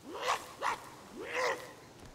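A dog in the Sons of the Forest game gives short whining, growl-like vocal bursts, three of them in quick succession at moderate volume.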